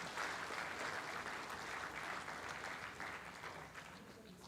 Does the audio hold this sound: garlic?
no